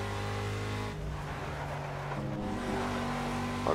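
Aston Martin V8 Vantage GTE race car at Le Mans in Project CARS, its engine droning loud and steady with pitch shifting as the throttle lifts and reapplies, rising again near the end.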